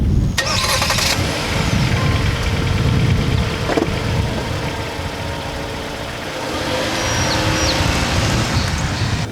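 A 2019 Jeep Compass Trailhawk 4x4 starting up and then running, a low steady engine rumble with some cabin noise and a brief rise and fall in tone.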